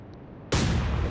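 Warship gun in the Atlantic Fleet naval video game firing a star shell: a single sudden loud boom after half a second of quiet, its broad rumble decaying through the rest of the moment.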